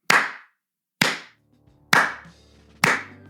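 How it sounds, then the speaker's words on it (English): Four slow, separate hand claps, crisp and close, with long pauses between each one. "Golf clap."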